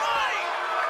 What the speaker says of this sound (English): This New York crowd sounds like they get a little impatient.